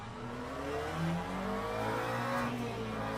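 A McLaren GT3 race car in Le Mans Ultimate accelerates on a formation lap, its engine note rising in a steady, sustained whine with no voices over it.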